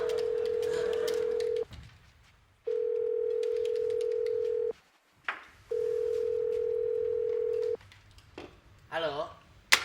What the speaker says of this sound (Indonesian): Pak Hendra, ada telepon tuh.